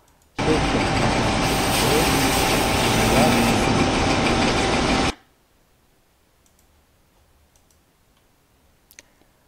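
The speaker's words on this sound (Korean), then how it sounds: "쉐이퍼가 위아래로 진동하면서 기어 이빨을 만들고 있습니다." Gear shaper machine cutting gear teeth on a shaft with an up-and-down reciprocating stroke: a dense, loud mechanical roar with fine clicking runs for about five seconds, then stops abruptly into near silence.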